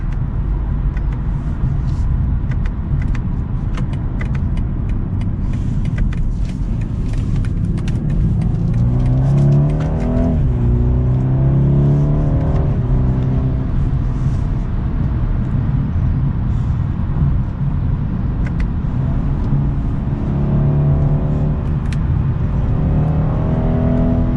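A 2022 BMW 230i two-door sports car drives on a test drive, its engine a steady close rumble from inside the cabin, rising and falling in pitch as it accelerates through turns.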